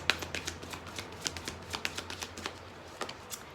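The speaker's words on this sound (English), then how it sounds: "I'm going to do 3 shuffles. One more shuffle." A deck of tarot cards is shuffled by hand at close range, producing a quick run of crisp riffling clicks and flutters over several seconds at a quiet level.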